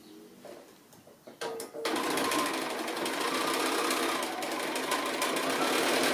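Sewing machine stitching a seam on a quilt block, a few quiet clicks and taps first, then a steady, fairly loud mechanical whir that runs unbroken to the end.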